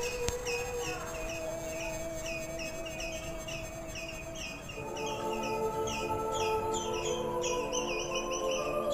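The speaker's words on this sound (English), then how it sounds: "Birds are returning." Birds chirping in the afternoon, repeated bright calls and tweets in rhythmic patterns over a steady musical drone, with tones layered and shifting partway through.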